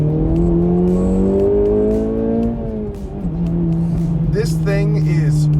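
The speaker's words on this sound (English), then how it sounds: "front wheel drive car, it'll spin the tires all morning" A 2024 Acura Integra Type S, front-wheel-drive, spins its front tires in a long rising howl of screeching rubber and revving engine that dips, then climbs again, with people talking over it.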